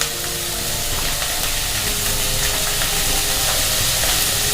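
Potatoes frying with green chillies in a pan, stirred steadily, giving a continuous close hiss and sizzle with faint scraping throughout.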